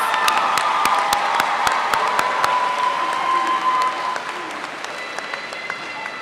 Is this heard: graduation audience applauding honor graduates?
yes